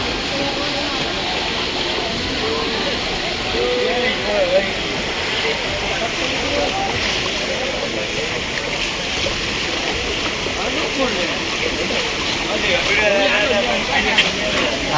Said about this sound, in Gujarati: હજી આટલું પાણી ચાલુ છે